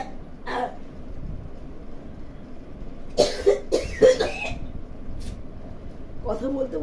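A sick person still recovering from illness coughs in a few harsh bursts clustered together in a quiet room, with a brief voice before and after.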